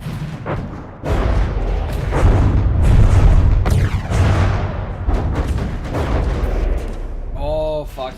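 Video game artillery made of three cram cannons and many advanced cannons lobs heavy shells, producing a thick, rumbling barrage of deep booms that keeps going, with talk over the top and a short musical tone at the end.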